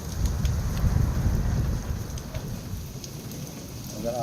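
Heavy rainstorm at night pours down steadily with gusting wind buffeting the microphone, while a low thunderous rumble rolls underneath the loud, dense downpour.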